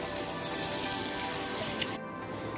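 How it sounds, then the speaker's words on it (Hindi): Eggs frying in masala in a pan give a steady, close, low sizzling hiss with no talk, cut off by a sudden change near the end. "अब इसके अंदर हम अंडे ऐड करेंगे और इनको हम फ्राई करेंगे।"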